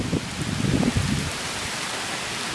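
Wind-driven rain during a storm makes a steady broadband hiss, with a few low rumbling gusts in the first second before it settles into an even wash of sound. No one speaks.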